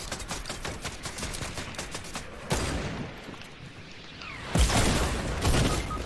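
Rocket launcher blast and gunfire in the video game Fortnite: a steady rattle of shots, then a loud boom near the middle and another heavy blast toward the end, close and dense.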